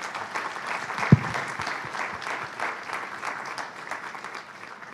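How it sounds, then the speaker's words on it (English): Audience applause in the room at a development panel discussion in Colombo, a steady spread of clapping held for about five seconds at moderate distance, with one sharper knock near the start. "I think they deserve a warm round of applause."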